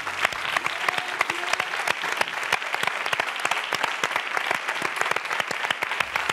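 A TV studio audience applauds for a singer as she is welcomed, loud dense clapping sustained throughout, with a few shouts rising from the crowd.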